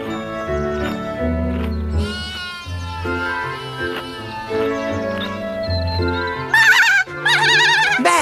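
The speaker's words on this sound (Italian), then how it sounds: "Vedi forse la tua mamma tra queste pecore?" Cartoon sheep bleat in an animated children's show, a shaky, wavering cry rising near the end over a bed of gentle background music.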